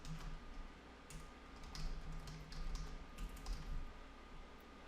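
Quiet tapping on a computer keyboard while typing a watch list name, a light scattered run of key clicks over a low hum, close and faint.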